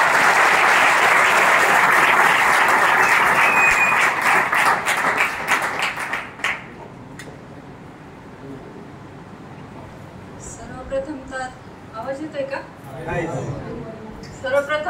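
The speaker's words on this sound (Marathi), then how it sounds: "जोरदार टाळ्या घेणार" Loud, dense audience applause at an event honouring a woman newly selected as a police sub-inspector, filling the first six seconds before dying away into scattered claps and a speaker's voice over a murmuring hall.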